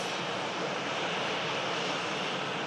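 Ryanair airliner bound for Brussels at Manchester Airport, a steady broadband jet engine roar holding at constant loudness throughout, fairly distant with no talk over it.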